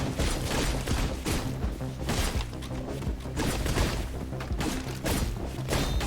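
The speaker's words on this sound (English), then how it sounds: "there's a ton of explosions to witness at the end" Dense, continuous barrage of explosions and booms in the video game Katana Zero, loud and layered with rapid overlapping blasts and crashing impacts filling the whole stretch.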